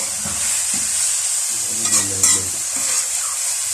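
Potato chips deep frying in hot oil give a steady, loud sizzle with soft stirring scrapes and a few brief bubbling bursts near the middle, close by with no talk.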